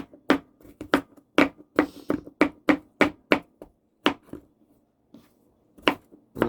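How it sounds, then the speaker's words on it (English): A knife chops vegetables on a cutting board while preparing pot roast for a cast iron Dutch oven. The sharp, close taps come in an uneven rhythm of about a dozen strokes, with a pause before a final few. "what I'm going to do is just chop this up really good"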